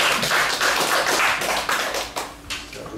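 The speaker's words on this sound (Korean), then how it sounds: "일단 박수를 한번 하셔야 돼요." An audience at a medical lecture claps, giving a dense, close patter of hand claps that lasts a few seconds before thinning out.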